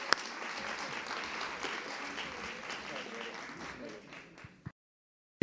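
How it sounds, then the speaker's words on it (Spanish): A conference audience in Alcobendas applauds, a sustained wash of clapping with some murmuring voices underneath, fading before a sudden cut to silence near the end. "Un aplauso."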